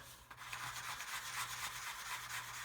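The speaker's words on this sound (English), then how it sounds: "got the sprue glue in there. Just going to start rubbing it down again" Sprue glue rubbed down with abrasive on a 1/32 scale HK Models Lancaster plastic model kit, a steady close scratchy rasp with faint rhythmic back-and-forth strokes.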